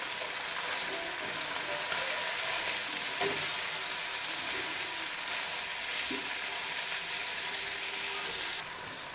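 Carrots, peas and cabbage fry in a pan, giving a steady, fairly soft sizzle that runs the whole stretch with a few faint stirring clicks and no talk.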